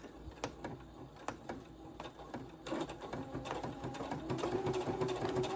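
A sewing machine stitching vinyl at a 3.0 stitch length with a quarter-inch setup, first in short separate bursts of needle strokes, then running steadily and a little louder, all fairly quiet.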